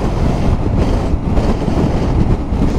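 Strong, cold wind of about 100 km/h in the Cévennes roars and buffets the microphone steadily, a dense low rumble with gusty surges throughout and no voices.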